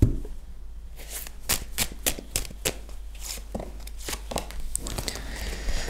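Tarot cards being shuffled by hand for a draw, a close run of crisp riffling flicks and slaps that starts after a second and continues to the end, with no talk.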